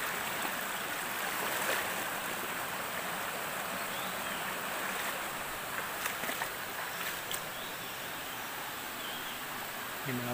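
A strong forest stream rushes steadily in a dense, continuous roar of water that stays loud and even throughout, with a few faint knocks and small sounds nearby.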